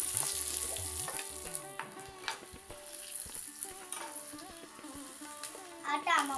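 Chillies and garlic roast and get stirred in a pan on a small stove for peanut chutney, giving a quiet, continuous sizzle with scraping stirs and faint voices in the background.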